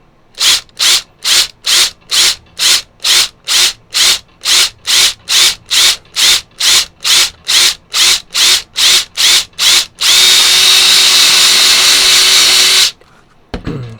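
A hole is reamed out with a quick run of regular scraping strokes, about two per second, then a short continuous loud grinding burst before stopping; no talking.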